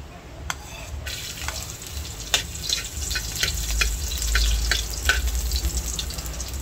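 Garlic and onion sauté in a home kitchen pan, a steady close sizzle and hiss punctuated by a few sharp clinks of a utensil against the pan.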